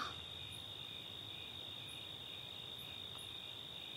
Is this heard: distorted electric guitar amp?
no